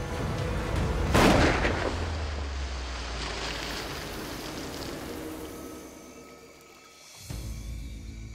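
A gunshot rings out during an alligator hunt in a swamp, a loud close crack with a broad burst, followed by several seconds of rushing water and wind-like noise outdoors and a second softer thump near the end.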